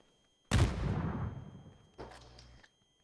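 Gunfire in PUBG: one loud, booming shot with a long decaying echo, followed shortly by a second, shorter report, heard alone without talk.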